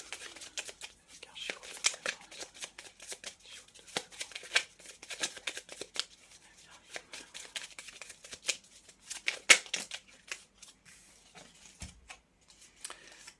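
Tarot cards are shuffled and drawn close up: soft papery rustles, flicks and slides in quick irregular bursts, with faint quiet murmuring in places.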